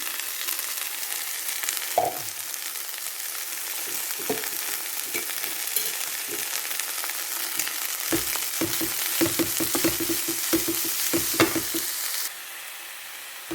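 Drumstick leaves stir-fried in a pan for sundal: a steady close sizzle with repeated scraping stirs of a utensil, growing busier and louder toward the end, with no talking.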